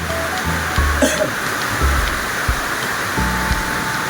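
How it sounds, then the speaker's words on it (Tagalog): Heavy rain pours steadily as a broad, constant hiss close by, with a few low knocks and thuds from nearby activity breaking through now and then. "Lakas na naman ng ulan."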